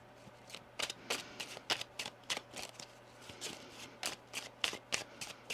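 A deck of tarot cards is shuffled near and quiet, in a run of quick crisp riffles and flutters spaced irregularly across several seconds, with no talk.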